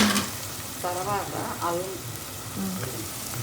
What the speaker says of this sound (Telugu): ఉల్లిపాయలు ఆనియన్స్ బాగా వేగినట్టుంది.